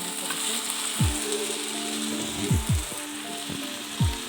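Prawns fry in a pan for an eggplant curry, giving a constant hiss of sizzling oil broken by several low thuds as the pan is stirred or knocked.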